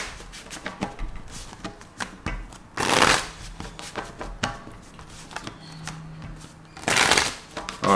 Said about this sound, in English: Just get three more shuffles